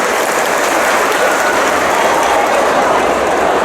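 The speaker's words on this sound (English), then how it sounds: "So make some super noise for Julia Peanut Parker and his family." A dense crowd at the Heroes Dutch Comic Con cheers and applauds a panel, the clapping and cheering loud, close and continuous throughout without a break.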